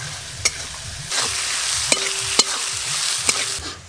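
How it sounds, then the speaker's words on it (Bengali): Cumin seeds, dried chilli and chopped onion frying in leftover fish oil, a steady sizzle broken by a few sharp clinks of a spoon against the pan, close and moderately loud with no talk. "ওই তেলেই আমি রান্না করে নিচ্ছি"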